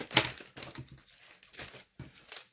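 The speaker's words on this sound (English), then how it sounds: "Sorry, rustling." Packaging crinkles and crackles close by in several short bursts with brief pauses between, crisp and fairly soft.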